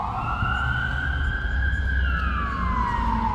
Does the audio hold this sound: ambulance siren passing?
yes